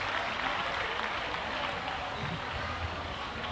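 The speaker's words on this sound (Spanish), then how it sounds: "aplauso para Paqui y para toda esa gente que trabaja para que la feria siga adelante" A crowd at a fair-and-festival queen coronation ceremony gives steady, dense applause for Paqui. The clapping forms an even roar throughout, with a faint murmur beneath it.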